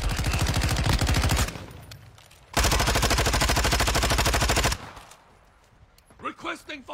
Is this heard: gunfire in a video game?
yes